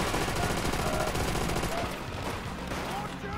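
Dense, continuous gunfire and machine-gun bursts fill a Call of Duty: World at War battle, loud and unbroken throughout with music and game noise blended in.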